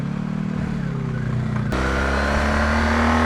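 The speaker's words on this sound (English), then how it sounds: "Not only is it a car, it's a massive 4x4" A massive 4x4 car passes close by on a narrow country lane, its engine a loud, steady drone with a sudden shift in tone as it goes past, heard alone without talk.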